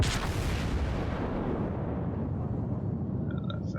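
A battleship main gun fires in World of Warships, one huge booming blast at the start that rolls off into a long, low rumbling decay.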